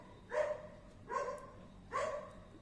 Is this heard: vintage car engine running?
no